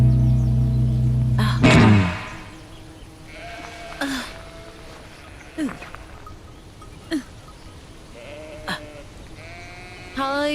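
Sheep bleat in a dubbed Hollywood thriller film, a series of short, fairly close bleats spaced a second or two apart after a louder opening burst of other sound, with a voice speaking in between.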